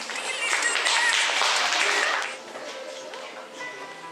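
Audience at a 7th-grade school class performance claps in loud, dense applause that fades and thins out after about two seconds, continuing more quietly to the end.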